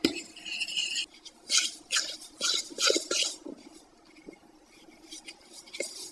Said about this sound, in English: I need something to mix this with. I'm gonna use a fork.